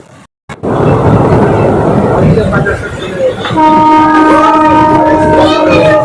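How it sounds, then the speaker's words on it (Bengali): Local passenger train 53056 runs fast into Chaurigachha station, a loud continuous roar of wheels and rushing wind filling the whole stretch, joined partway by sustained horn-like tonal notes. "আমাদের ট্রেন এখন ঢুকছে চৌরিগাছা"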